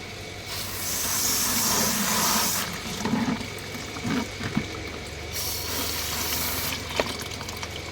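A garden hose sprays water onto a rock tumbler barrel holding a large storm jasper agate stone in 80-grit slurry, a loud rushing hiss that rises, breaks off into splashing and gurgling, then resumes, close by.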